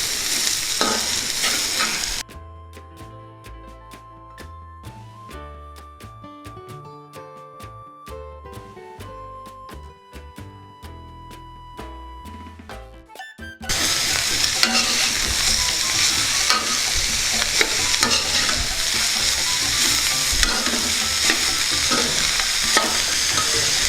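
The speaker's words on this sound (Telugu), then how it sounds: "మొత్తం వేసేయకుండా కొంచెం వేసేసి మనం అలా గరిటెతో కొంచెం కలయబెడితే" A ladle stirs chopped cabbage frying in a pan for a pudina cabbage curry. Scraping strokes mix with steady sizzling, which swells loudly in the second half after a quieter stretch with a clear tonal passage.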